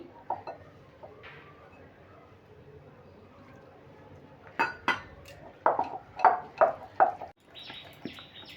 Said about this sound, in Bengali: এটা আমি হাত দিয়ে ফেটিয়ে নিচ্ছি